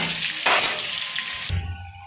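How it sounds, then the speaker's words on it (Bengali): Potatoes fry in a pan with turmeric, giving a steady close sizzle with a brief louder burst of crackle near the start and a lower hiss later. "এবার ভাজা হোক।"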